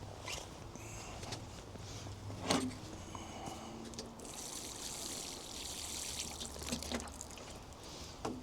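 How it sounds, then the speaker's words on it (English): A thin, quiet trickle of water poured onto potted strawberry plants runs steadily for several seconds, close by, with faint clicks and soft handling noises. "Pop on a bit of water."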